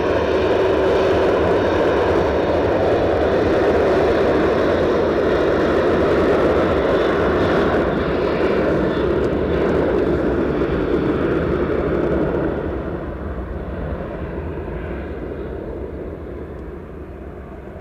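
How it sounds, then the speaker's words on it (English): A Ryanair airliner bound for Dublin takes off at Edinburgh Airport, a loud, sustained jet engine roar that fills the air for about twelve seconds, then eases back to a softer rumble as it climbs away, with no voices. "this Ryanair off to Dublin"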